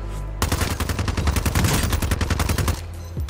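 Sustained automatic gunfire from Warzone, a rapid burst of shots running loud and close for over two seconds before cutting off.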